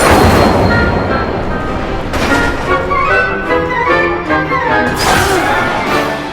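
Fire spell cast in the video game Hogwarts Legacy: loud, dense blasts and crackling bursts at about 0, 2 and 5 seconds over a continuous roar of game effects, with no speech.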